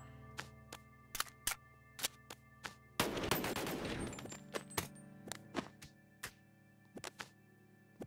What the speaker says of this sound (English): So when you shoot and move things, you can hear that it's a blank map.